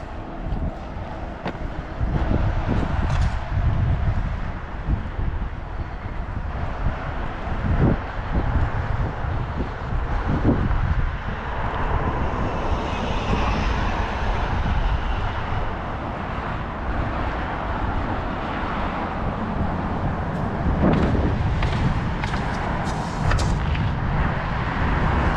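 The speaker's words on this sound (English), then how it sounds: "Oh, the wind" Wind gusts rush steadily into the microphone as broadband rumbling and buffeting on a warm spring walk outdoors in Maine, with a few sharper knocks and thumps mixed in.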